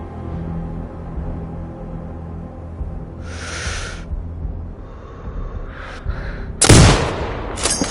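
A sniper rifle shot in a video game cracks out as one loud, sharp report with a short boom near the end, set against a steady low background rumble and a few fainter bursts earlier.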